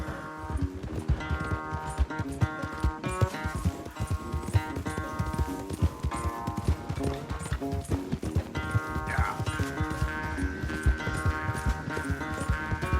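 Horses galloping in a race in the video game Red Dead Redemption 2, a steady drumming of hooves beneath a continuous layered musical score, loud and sustained without a break.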